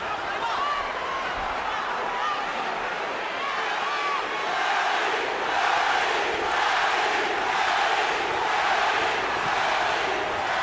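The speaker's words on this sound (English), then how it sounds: "And you hear the adoration of the crowd." A large boxing arena crowd roars and cheers continuously at the Manny Pacquiao vs David Diaz fight, a dense wash of voices with shouts rising and swelling over about ten seconds.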